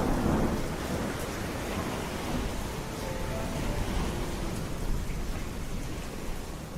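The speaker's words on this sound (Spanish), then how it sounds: "Una noche entera de truenos, rayos y unas olas enormes." A night thunderstorm at sea: heavy rain hisses continuously while deep thunder rumbles roll underneath, loud and enveloping, with no voices.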